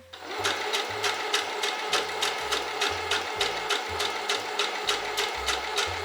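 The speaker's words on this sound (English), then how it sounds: "We're gonna top stitch here on the pocket and skirt piece on top of the seam allowance" A sewing machine topstitches a dress pocket and skirt piece along the seam allowance in steady bursts of rapid stitching, close and loud, with brief pauses between runs.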